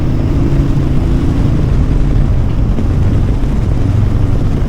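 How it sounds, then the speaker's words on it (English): A low, continuous engine drone rumbles without a break, like an aircraft passing overhead, loud and steady with no voices. "there's a plane up there"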